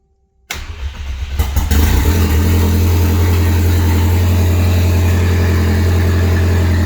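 A Mk2 VW Golf with a 20-valve turbo engine cranks and catches after a short silence, then settles into a loud, steady, low idle with a constant rumble and faint mechanical whine.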